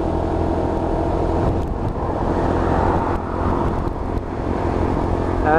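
A Lexmoto LXR motorcycle with a five-speed gearbox drones steadily while ridden at low revs, a loud, continuous engine and road rumble with no pauses.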